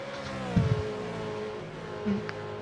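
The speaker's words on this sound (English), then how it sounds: "I don't think there's a better sounding car than that AMG Mercedes, that's for sure." An AMG Mercedes race car accelerates away at Bathurst, a sustained engine note climbing in pitch, heard at moderate distance with brief louder bursts partway through.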